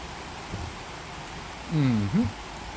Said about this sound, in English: Can you hear the rain? Perfect. Nice and gentle.